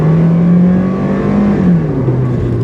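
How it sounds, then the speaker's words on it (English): A 2015 Toyota Yaris compact car engine drones steadily under acceleration, loud and close, its low hum holding then sagging slightly as revs shift, with no voices over it. "That droning engine"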